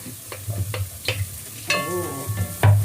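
Onions sauté in butter in a pan for creamy sopas, a soft close sizzle punctuated by several sharp stirring taps and scrapes, ending with a louder clank.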